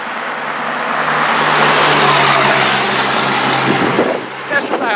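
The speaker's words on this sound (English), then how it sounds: "that's a loud ass truck" A loud truck passes along a road during a bicycle ride, its broad engine and tire roar swelling to a peak and then receding over several seconds, close and dominant.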